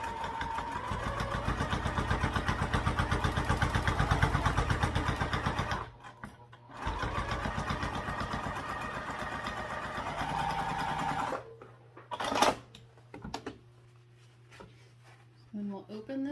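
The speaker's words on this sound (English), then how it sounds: "we'll just sew this at a 1/4 inch seam allowance all the way down" A sewing machine stitches a quarter-inch seam down a wallet, its steady rapid mechanical chatter running in long stretches with brief stops, close by, with a voice speaking over parts of it.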